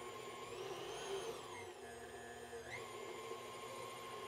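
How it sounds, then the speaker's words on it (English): Steady motor whine of a stand mixer running at medium speed with a paddle working batter, a continuous hum that shifts pitch slightly partway through, close and fairly quiet. "Now, it will mix for 2 minutes at medium."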